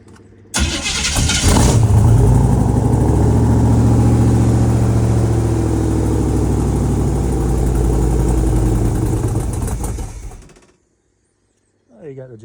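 An old engine with no choke cranks, catches and settles into a loud steady run for about ten seconds before cutting off abruptly, followed by brief silence and a faint sound at the end.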